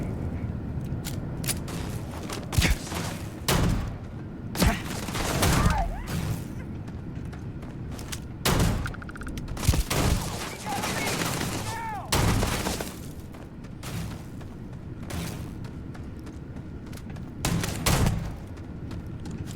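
Gunfire in the space game Starfield: loud, sharp shots in irregular bursts and single cracks across the whole stretch, some rapid volleys, with a voice talking briefly between them.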